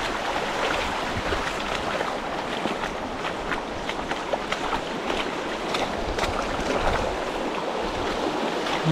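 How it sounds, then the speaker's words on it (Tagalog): Stream current rushing and splashing in a continuous broadband wash, steady and close, with no talking over it. "Ang ganda ng agos tubig"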